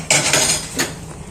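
A utensil stirs whipping cream into jarred pasta sauce in a pot, giving a few bright metallic scrapes and clinks close up.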